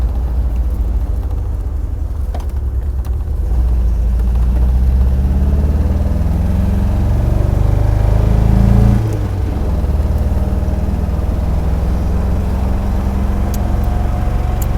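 A 1977 MGB with a small vacuum leak drives over a bumpy beach, its engine a loud, steady low drone from inside the car, rising briefly mid-run before settling back, with occasional knocks from the rough ground.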